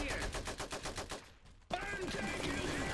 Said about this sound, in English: Machine gun doing a perfect job.